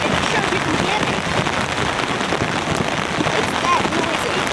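Close, loud rain hammers a camping tarp and runs off the back in an even, unrelenting roar, with a voice partly buried under it.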